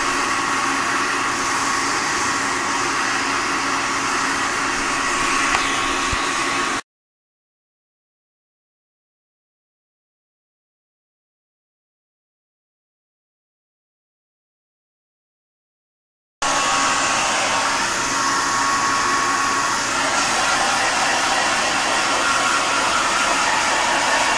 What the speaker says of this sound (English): I recommend the Smart Temp blow dryer